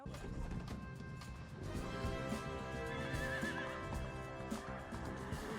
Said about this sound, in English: Is he gonna want a horse?